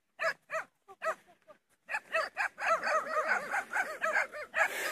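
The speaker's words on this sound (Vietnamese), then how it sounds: "Chó ra đón chủ rồi." A dog barks and yelps as it greets its owner at a rural hillside home, a few separate barks at first, then a quick excited run of yips close by.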